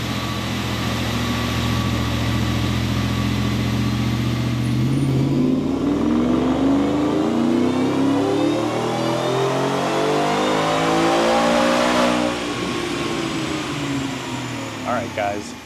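A Ford F-150 with a Coyote V8 and Whipple supercharger revs hard on a dyno, a loud sustained engine roar rising steadily in pitch through a long pull before easing off near the end.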